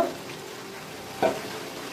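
Peeled boiled small new potatoes drop into a sizzling spice mix for aloo dum, a steady low frying hiss broken by one brief stirring scrape near the middle.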